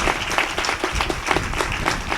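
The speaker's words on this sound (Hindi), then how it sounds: "अरे ताली तो बजा दो खुश होके" Applause from an audience at a spiritual discourse gathering, a dense wash of clapping that carries on steadily without pause, fairly loud and close.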